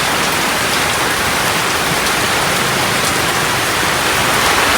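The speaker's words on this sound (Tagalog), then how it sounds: "Maulan ng maulan." Heavy rain pours in a steady, dense roar, close and loud and unbroken, with no voices over it.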